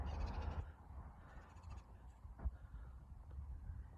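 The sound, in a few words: two birds calling outdoors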